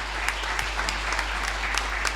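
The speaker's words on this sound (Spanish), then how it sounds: "Dale un fuerte aplauso al que vive." Church congregation applauding during a worship service, a steady round of clapping with sharp individual claps rising out of the wash, moderately distant, beneath a constant low hum.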